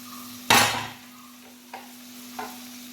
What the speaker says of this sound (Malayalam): അതും ഇട്ട് കൊടുത്ത് നമുക്കൊന്ന് ഇളക്കാം